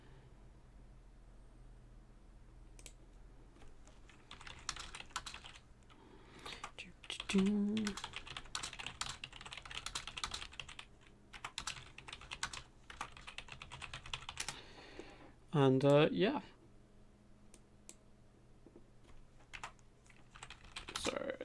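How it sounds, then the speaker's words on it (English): Close, clattery typing on a computer keyboard during a live stream comes in bursts of rapid keystrokes, with a couple of short spoken interjections between them. "Sorry about all the live typing as well."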